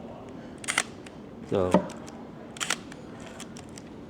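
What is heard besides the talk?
Leicaflex SL2 camera shutter release and film winding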